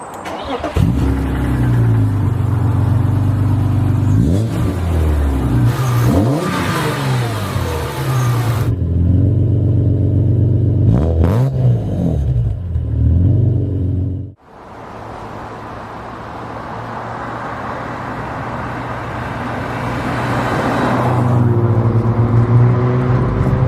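BMW M3 Evo E36 from the 1990s driving, its engine loud and close with repeated revs rising and falling through gear changes. One short dip breaks the sound partway, then a steady cruise follows and builds again.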